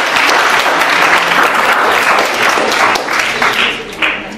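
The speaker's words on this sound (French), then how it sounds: "Est-ce que vous pouvez me faire un tonnerre d'applaudissements pour Nevin?" Thunderous applause from a conference audience in a packed hall, a loud, dense wash of clapping sustained throughout with a few cheers rising near the end.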